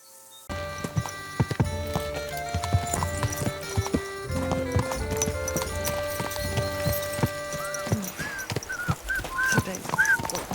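Hooves clip-clop in a steady trotting rhythm over game music in Kingdom Come: Deliverance II, with a horse whinnying briefly near the end.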